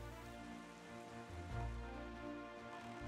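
Rain in Zelda: Wind Waker HD: a soft, steady hiss of rainfall that stays even and continuous, with a low rumbling bed underneath and no talking.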